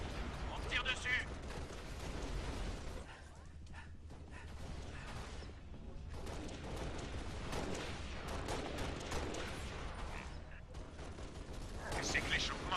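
Gunfire in the video game Halo Reach: bursts of automatic shots and mechanical clatter come and go at moderate level, with a quieter lull in the middle.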